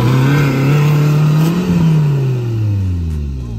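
A modified Mahindra Thar's engine revving hard and loud at full throttle, a strained roar whose pitch climbs and then sags as it holds the throttle.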